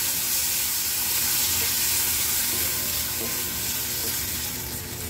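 Soaked poha fries in ghee with a dense, continuous close sizzle and hiss, and soft stirring underneath throughout, with no talking.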